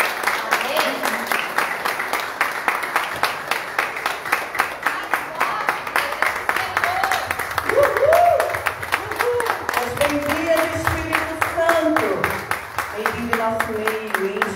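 A church congregation claps in a steady, rhythmic beat throughout, loud and close, while a voice rises over the clapping in the second half.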